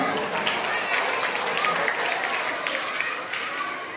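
Applause from an audience at an annual school prize-giving ceremony, a steady moderate patter of many hands clapping continuously, somewhat distant, with faint voices mixed in.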